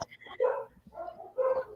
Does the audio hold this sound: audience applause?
no